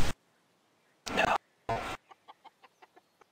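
Chicken in the game CS:GO clucks in short loud bursts, followed by a rapid run of quieter, evenly spaced clucks.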